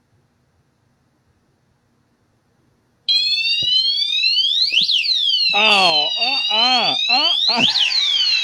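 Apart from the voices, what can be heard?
motion detector alarm going off in a hallway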